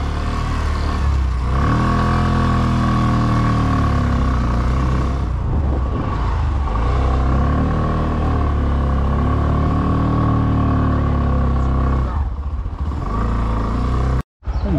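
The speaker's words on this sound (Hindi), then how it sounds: "अरे नीचे उतार के ले आए थे बाइक को।" A motorcycle engine runs steadily and loudly throughout while a bike is ridden off-road down a rough slope, with a few surges of revving and some rattling clatter, cutting off abruptly near the end.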